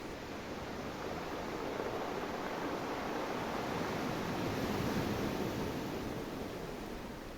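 Ocean surf washing onto a beach with a steady, continuous roar of breaking waves, close and unbroken, with no voices or other sounds.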